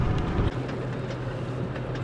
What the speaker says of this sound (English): we had to stop for the sugar train